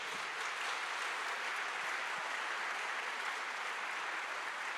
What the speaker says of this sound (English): I please all the audience to applaud them